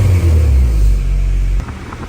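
A Honda Civic Si FA5 with a K24 engine fires up, a loud deep rumble that holds steady and then drops off abruptly near the end, with no talking.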